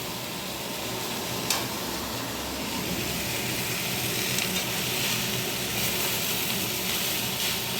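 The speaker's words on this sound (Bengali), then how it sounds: "এখানে একটু শুকনো লঙ্কা কালো জিরা ফোড়ন দিয়ে দেবো" Dry red chillies and nigella seeds sizzle in hot oil, a steady close crackling hiss that holds evenly throughout, with one brief sharper pop early on and no voices.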